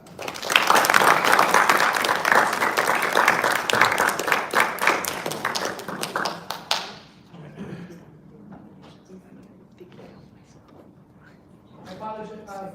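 A lecture audience bursts into sustained, loud applause that fills the hall for several seconds, then tapers off into scattered claps and room noise before a few final claps.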